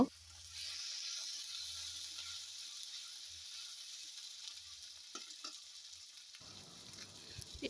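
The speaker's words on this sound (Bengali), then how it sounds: "ডিম ভাজা তেলে কিছুটা তেল দিব, আদা রসুন বাটা দিব, দিয়ে হালকা করে ভেজে নেব" Ginger garlic paste frying in a little leftover oil from frying eggs, with a soft sizzle and occasional light stirring and scraping, quiet and close.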